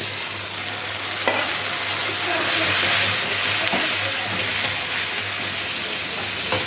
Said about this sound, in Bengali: চিংড়ি মাছটা তেলের আগে দিয়ে দাও, ভাজা ভাজা হয়ে যাবে